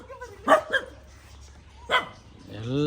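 Dogs bark close by in short sharp bursts, two quick barks followed by another after a pause, before a drawn-out whining tone rises at the end.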